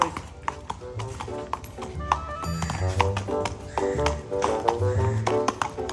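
A mare's hooves clip-clop in a steady run of sharp, close taps with ringing metallic pings, a few louder strikes standing out and no talking.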